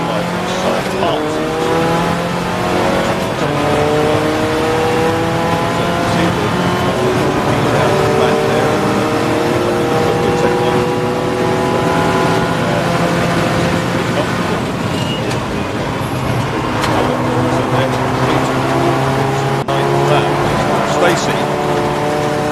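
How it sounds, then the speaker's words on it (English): Race cars lapping Snetterton 300 during a 750MC Club enduro race, including a Golf and a TT TDI, engines droning and shifting pitch as they pass, loud and steady under continuous commentary. "Marcus, is speeding up the inside"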